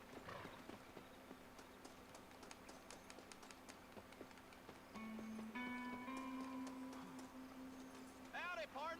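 Horse hooves clip-clop steadily in a video game, a close rhythmic clatter of hoofbeats under background music with a voice talking over part of it.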